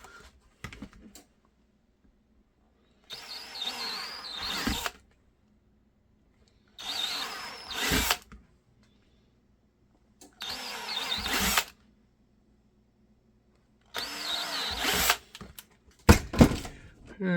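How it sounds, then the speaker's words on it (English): Several short bursts of a power drill whirring while drilling holes in a pistol holster, each a second or two long, separated by quiet pauses. "Go ahead and drill above those guys."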